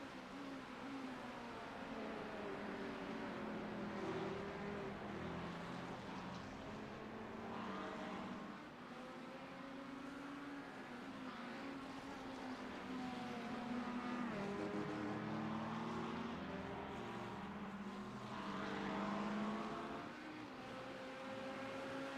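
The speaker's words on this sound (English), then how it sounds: "Corvette sounds nice, doesn't it?" A Corvette race car in the iRacing sim at Spa during an endurance race gives a steady, fairly faint engine drone with shifting pitch as it revs and holds speed, joined by other car engines in the background.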